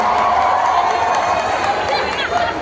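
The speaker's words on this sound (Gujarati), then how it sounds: "તો એકવાર જોરદાર તાળીઓ થઈ જાય જીગરભાઈ અને ટીમ તરફથી." Audience at a Navratri festival gathering applauding and cheering, a dense, loud, steady wash of clapping and crowd noise with voices mixed in.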